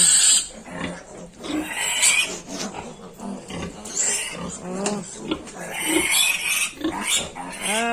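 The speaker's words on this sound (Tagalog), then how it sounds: "Para makapo niya yung mga biik na nag-iisa." Piglets squeal and grunt loudly and repeatedly while being caught, the shrill cries rising and falling in bursts throughout, close by and dominant.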